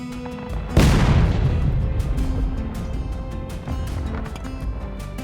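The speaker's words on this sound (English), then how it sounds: "a round comes into the center of the Union battery, but it's just long" An artillery round lands near the center of a Union battery, one sharp, heavy boom early on that decays into a lingering rumble, followed by scattered fainter pops and crackles.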